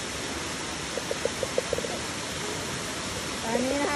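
Steady broadband rush of Alongkorn waterfall flowing in the forest of Ta Tum, Surin, Thailand, filling the whole clip, with a brief run of faint high chirps early on and a voice entering near the end.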